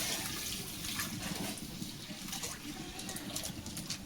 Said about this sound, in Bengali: দুধটা দিয়ে দিলাম কড়াইতে